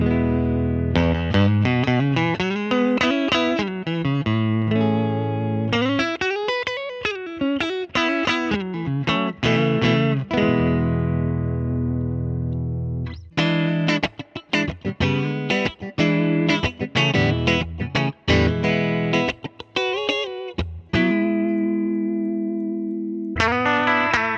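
Single-coil electric guitar through an Origin Effects Magma57 vibe and drive pedal set for a bit of overdrive: swirling, pulsing vibe on sustained chords and runs, then choppy rhythmic strums and a held chord, loud and continuous with no talking.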